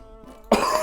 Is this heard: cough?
yes